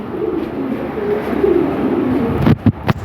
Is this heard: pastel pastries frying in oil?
no